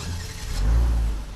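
A 2017 Genesis G90 sedan's 3.3-liter twin-turbo V6 hums at a low, steady idle, then swells briefly into a deeper, louder surge before easing back, heard close and without voices.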